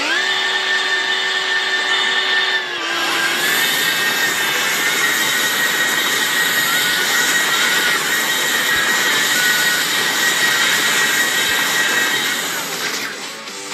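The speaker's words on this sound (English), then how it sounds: "This one we'll want the formula though, with nitro, fuel boost, and the afterburner." A formula car with nitro, fuel boost and afterburner in the Hill Climb Racing 2 mobile game, a steady high engine whine that jumps into a loud continuous jet-like roar after a few seconds and holds to the end.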